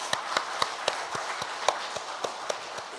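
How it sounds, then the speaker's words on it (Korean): A church congregation gives a short round of applause, a sparse and fairly quiet clapping of separate claps spaced out at a steady pace, heard at a distance in the sanctuary. "수고한 손길 위에 격려하는 박수를 한번 드리도록 하겠습니다"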